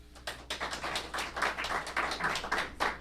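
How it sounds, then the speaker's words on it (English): A small audience at a community resilience event gives a brief, sparse round of applause, with individual claps audible in an uneven patter that rises and dips over a few seconds. "Nice round of applause."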